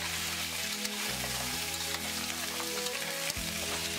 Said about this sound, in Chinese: 然后把猪蹄倒入锅内，迅速的翻炒至猪蹄完全裹上糖色